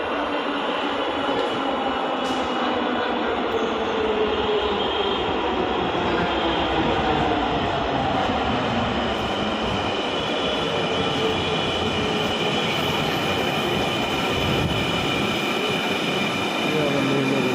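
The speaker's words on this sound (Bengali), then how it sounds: "অবশেষে ট্রেন চলে আসলো" A train pulls in and keeps running, a loud sustained rumble of rolling carriages with wheel squeal and rattling, steady and close for the whole stretch.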